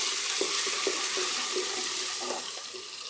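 Ginger-garlic paste added to onions frying in a pot for mutton curry with carrots, giving a dense, loud, continuous sizzle with a few soft clicks and stirs over about three seconds, no voices.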